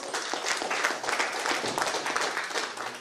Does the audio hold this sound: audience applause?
yes